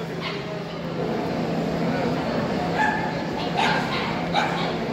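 At a European championship dog show in Budapest, a Macedonian karaman dog yips and whimpers close by while a judge examines it, with steady crowd murmur and talk underneath.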